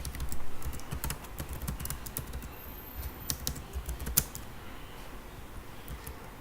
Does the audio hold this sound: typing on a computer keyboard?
yes